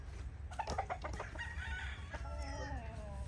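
Bullstag roosters, some of them molting, let out short clucks followed by a crowing call, fairly close but quiet, over a low background hum.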